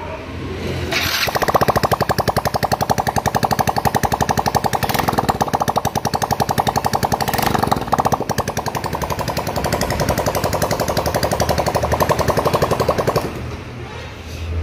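A 2023 Hero Splendor BS6 motorcycle, freshly fitted with its engine, starts and then idles with a steady, rapid, close-up putter lasting over ten seconds before cutting off.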